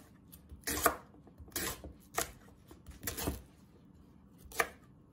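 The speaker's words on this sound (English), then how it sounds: "Then I'm gonna cut them into bits so that it will be easier for me to blend them" A knife cuts green plantain into pieces with five separate, crisp chops on a board, spaced unevenly over a few seconds, close and fairly quiet, with no talking.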